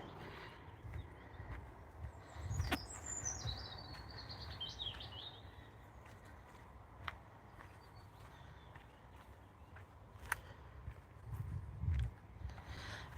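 Woodland birds sing on a slippery hillside path, with faint chirps and a fluttering trill rising above a soft hum of insects and occasional light footsteps or thuds.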